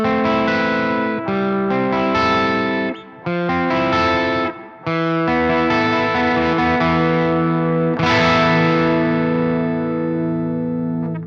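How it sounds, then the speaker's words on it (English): Distorted electric guitar chords through the BDM Ampknob amp plugin with its built-in room reverb switched on, loud and sustained with brief gaps between strums. "on this plugin, like I mentioned before, there is a built-in reverb as well"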